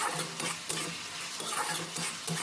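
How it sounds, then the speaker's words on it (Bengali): Spice masala with tomato stirred in a hot pan for a cauliflower and potato curry, a constant sizzle broken by rhythmic scraping strokes of a spoon, close up and without speech. "তো এইভাবে নাড়াচাড়া করে মশলাটা ভালোভাবে তৈরি করতে হবে"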